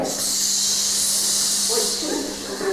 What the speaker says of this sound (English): Beat that big bad bug with a bug spray.